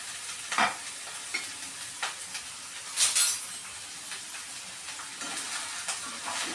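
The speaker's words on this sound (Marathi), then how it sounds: "तसा मध्यम आचेवरच तो छानपैकी गुलाबी रंगावर फ्राय करून घ्यायचा." Ten sliced onions fry in oil in a pan over medium heat. A soft sizzle runs throughout, broken by intermittent stirring scrapes and an occasional clink of a utensil against the pan.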